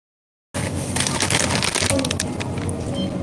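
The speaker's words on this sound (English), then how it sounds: "They're chili toast flavored tortilla chips." Chili toast flavored tortilla chips crunch loudly and continuously close to the mic, a dense crackling chewing noise starting after a half-second of silence, no speech.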